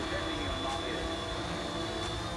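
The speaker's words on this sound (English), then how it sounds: "GPS is keeping the drone on this position." A steady mechanical whine and drone of a Bayangtoys X16 GPS drone hovering in place in slight wind, constant and unbroken, with a faint tonal hum over rushing noise.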